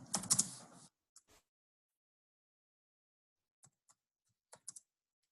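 Computer keyboard typing while a spreadsheet cell is edited: a quick burst of keystrokes at the start, then sparse, isolated clicks with long silent gaps.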